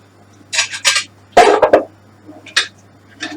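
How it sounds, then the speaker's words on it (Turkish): A few sharp metallic clanks of a lid being set on a pot of boiling water for biryani, followed by lighter clinks, close and loud in a quiet kitchen. "Şu tenceremin kapağı kapattım ve bu artık kaynayacak."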